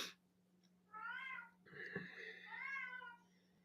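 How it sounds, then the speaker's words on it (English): A house cat meows in agitated, drawn-out cries, two or three loud wailing calls in close succession over a low steady electrical hum indoors. "Everybody hear my cat?"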